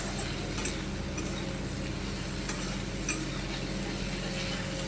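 Paneer with chopped tomato, green chilli and salt being stirred in a pan, with a faint low sizzle and soft, sparse scraping clicks from the spoon, quiet and close.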